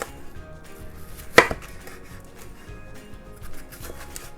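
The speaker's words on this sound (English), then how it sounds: "Then you cut them in big piece." A knife chops tomatoes into large chunks for tomato scrambled eggs, with one sharp, loud cut near the start among softer scraping and tapping on the board.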